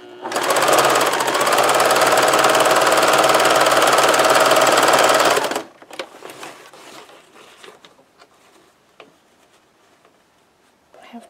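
A sewing machine stitches a zigzag in a loud, rapid, steady run for about five seconds, then stops, leaving quiet rustling and faint handling sounds.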